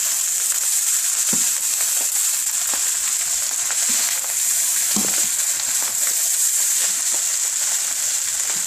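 Hibachi beef fried rice sizzles steadily in a hot pan while being stirred and mixed, with a constant bright frying hiss and occasional soft scraping knocks, close and without voices.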